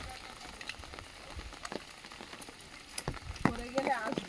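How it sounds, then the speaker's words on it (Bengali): Heavy rain falls outdoors, a soft, steady patter and hiss of drops on surfaces. Occasional louder splats come through, and voices speak over it toward the end. "এত বৃষ্টি হচ্ছে"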